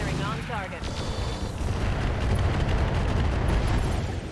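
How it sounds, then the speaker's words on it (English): Heavy mech weapons firing on a target in RogueTech, a mech combat game: a dense, continuous roar of booming cannon and rumbling blasts that builds and stays loud throughout, with a faint whir of machinery in the mix. "Firing on target"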